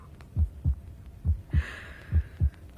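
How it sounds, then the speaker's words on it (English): A heartbeat sound effect in an audio ghost drama: slow, steady double thumps, lub-dub pairs repeating about six times, close and muffled against near silence, with a faint high hum entering partway through. "My own heartbeat."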